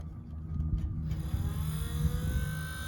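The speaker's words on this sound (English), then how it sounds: "now the motor works." A small battery-powered electric motor for a spinning sign runs with a steady droning rumble, and a thin whirring whine rises on top about a second in and holds.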